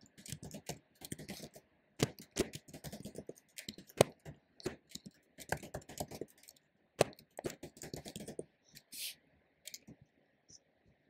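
Typing code on a computer keyboard: clusters of soft key clicks in irregular bursts with gaps between them, close but faint.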